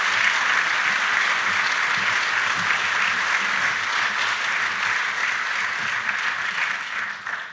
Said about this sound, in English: How about a nice round of applause for Deputy Chief Bannock?